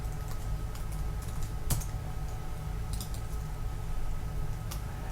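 Keys clatter on a computer keyboard as a price is typed, a quiet run of soft clicks with a couple of sharper taps and a faint steady hum underneath.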